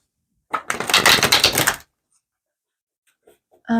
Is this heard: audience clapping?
no